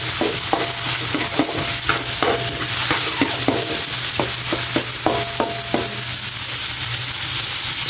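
Spider shell meat and mixed vegetables sautéing in a pan, a steady sizzle with a repeated rhythmic scrape of stirring throughout, close and fairly loud.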